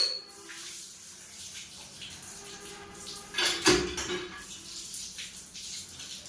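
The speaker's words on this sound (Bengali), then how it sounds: "পেঁপেগুলোকে একটু ধুয়ে রাখবো, পাকা পেঁপে যেহেতু" Ripe papayas are rinsed under running water at an outdoor tap, with a low background trickle and a brief, close splash in the middle.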